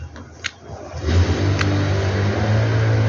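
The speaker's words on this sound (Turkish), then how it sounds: "Hep motor sesi geliyor." A motorcycle engine drones steadily up close, rising into a revving hum after a brief quieter start with a couple of clicks.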